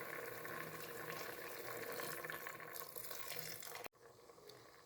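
Steady liquid pour of milk into a cooking pot on the stove, a continuous soft splashing stream that cuts off abruptly near the end, fairly faint and close.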